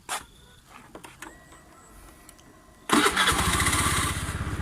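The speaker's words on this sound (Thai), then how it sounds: "เดี๋ยวสตาร์ทเครื่องให้ฟังนะครับ" A few clicks and a cranking whir, then a Honda Scoopy-i motorcycle engine catches and settles into a loud, steady idle close by.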